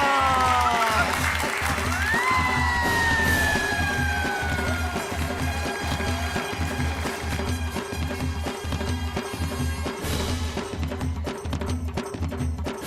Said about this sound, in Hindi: इसी बात पे तालियां हो जाए।